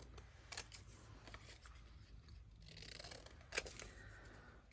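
Scissors trim a printed card picture for a paper journal, giving soft, scattered snips and paper rustles at close range, faint against a low steady hum, with one sharper cut near the end.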